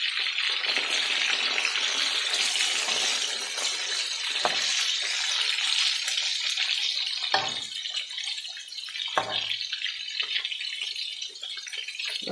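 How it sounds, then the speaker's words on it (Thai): Running water splashes and rushes loudly and continuously as fish is washed by hand with salt, a close, dense wash of sound broken by a few brief dips and clunks, with no talking. "เวลาล้างต้องล้างให้เกลี้ยงเลยนะคะเอาเกลือล้างด้วยเกลือ"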